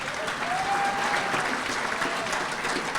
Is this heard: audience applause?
yes